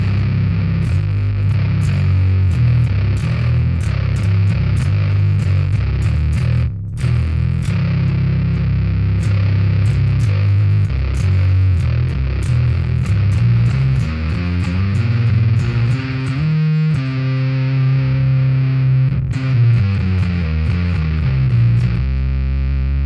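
Electric guitar tuned to drop C played through an EHX Big Muff Pi fuzz pedal, a loud, thick, saturated fuzz tone in continuous heavy riffing with a couple of brief stops, heard alone.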